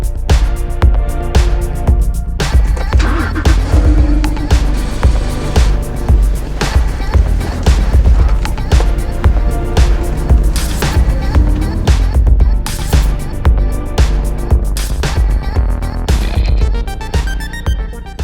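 Porsche 911 997.2 coupe with a manual gearbox driving, a loud, continuous engine and road rumble with rhythmic surging and steady wind and tyre noise throughout.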